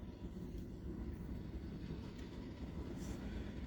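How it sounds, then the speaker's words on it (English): Train crossing a bridge near Santa Fe Junction, a quiet, distant steady rumble of rolling rail cars with faint clatter, heard alone. "David, there is a train coming across the bridge"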